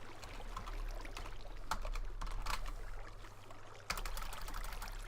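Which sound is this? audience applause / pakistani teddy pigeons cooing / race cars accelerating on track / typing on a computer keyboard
typing on a computer keyboard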